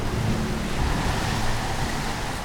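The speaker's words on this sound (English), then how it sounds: "Water breaches the bridge," Seawater surging and flooding over the bridge of the sinking passenger ferry Estonia, a steady, loud, dense roar of rushing water and wind with no voices.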